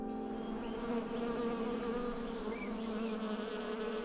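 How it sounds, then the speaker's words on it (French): Bees buzz steadily among almond trees and lavender, a close, continuous drone of several insects humming together without any voices. "il y a des amandes, il y a de la lavande, il y a des abeilles"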